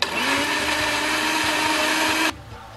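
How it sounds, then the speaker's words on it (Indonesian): A kitchen blender whirs loudly and steadily as it purees chopped pandan leaves with a little water, running at a constant high pitch before cutting off abruptly near the end. "Kita buh hayak sikit dan kita blend."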